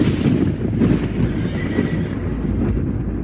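Horses neigh and whinny over a dense, loud rumble with clip-clop hooves, a sound effect in a Portuguese Bible story audio about a hill covered with horses and chariots of fire. No voices are heard.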